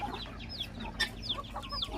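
Chickens and chicks close by, with soft clucks and high peeping chirps scattered throughout and one sharper cluck in the middle.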